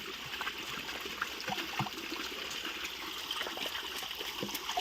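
Water flowing along a field irrigation channel, a continuous trickling and gurgling stream heard close by, with no voices.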